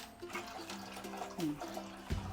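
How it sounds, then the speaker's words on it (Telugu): Water runs and splashes into a pot of eggs being covered for boiling, a soft, close pouring sound with small clinks. "ఈ గుడ్లు మునిగేటట్టు వాటర్ పోసుకోవాలి."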